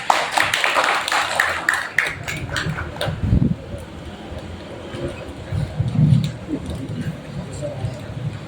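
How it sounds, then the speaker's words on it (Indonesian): A crowd at a village ceremony in Tembokrejo applauds a founder being introduced, with dense, brisk clapping at the start that thins out, and a voice speaking over the end. "Kita beri aplaus terlebih dahulu."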